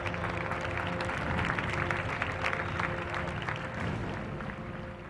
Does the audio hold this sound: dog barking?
no